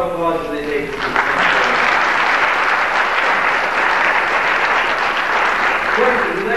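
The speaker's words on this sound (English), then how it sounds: "let's give them one more round of applause as they take the seat" Banquet audience at a YMCA recognition dinner breaks into sustained, loud applause that swells after a second and holds steady, dense clapping from a large crowd throughout.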